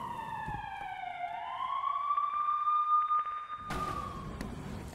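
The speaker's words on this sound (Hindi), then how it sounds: "हाइफा में बज रहे सायरन" An air raid siren wails in the port city of Haifa after a missile attack, a loud rising and falling tone with a second siren joining it and a burst of broadband noise near the end.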